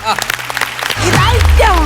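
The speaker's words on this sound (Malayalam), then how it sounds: "ഒരു നല്ല കൈയടി." Comedy show audience breaking into loud applause and cheering that swells and holds to the end, after a brief stretch of a host talking.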